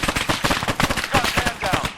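Rapid automatic gunfire in Arma 3 combat, a dense close stream of sharp cracks in quick rhythm, with shouted voices mixed in.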